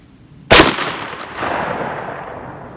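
A single loud shotgun blast from a Panzer M4-style semi-automatic shotgun firing S&B buckshot, a sharp close report followed by a long decaying echo and rumble.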